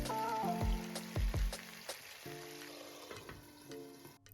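Marinated chicken seasoned with paprika, oregano, cumin, salt, pepper and chili flakes fries in a pan, giving a soft crackling sizzle under faint humming and a few clinks and bumps.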